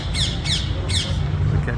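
A parrot squawks at a cat outdoors in Athens, three or four sharp, harsh calls in quick succession over a low background rumble.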